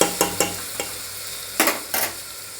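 Onion with a pinch of asafoetida frying in a pan, a soft sizzle broken by about seven quick scraping stirs of a spatula, close and clear with no voices.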